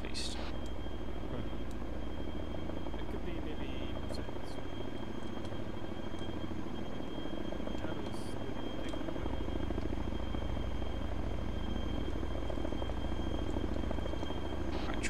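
Steady low thrum of a video game helicopter's rotors and engine, continuous and fairly close, with a few faint clicks and muffled sounds over it.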